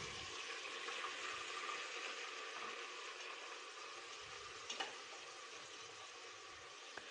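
Small onions frying in a pan, a soft continuous sizzle and crackle close by, faint and even with a couple of brief pops.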